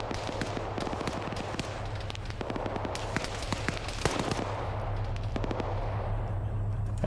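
Gunfire in a large multiplayer PvP war game, with dense crackling rifle and machine-gun fire and scattered heavier bangs that run without pause at a moderate, somewhat distant level, layered over a constant low rumble.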